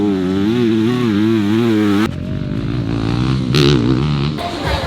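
A motocross bike engine revs hard at a race team's track in Thailand, a loud, close whine that rises and wavers, then breaks off into rougher engine noise.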